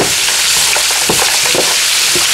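Frozen broccoli florets get stirred into fried rice as it fries, a loud steady sizzle with scraping spoon strokes and soft clatter running all the way through, close up and with no voices.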